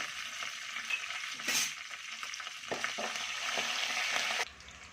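Cashews, curry leaves and green chillies fry in hot oil in a pan, a steady close sizzle with faint stirring scrapes throughout, the hiss dropping away sharply near the end.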